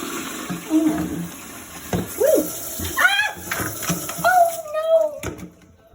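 Water sprays out during a toilet repair with a Korky complete fix kit, a rushing, splashing hiss heard close under loud, startled exclamations from a person.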